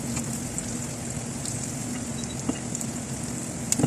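Garlic and onion sautéing with ground meat and added fat in a pan, a steady close sizzle with a few faint stirring clicks near the end, no talking.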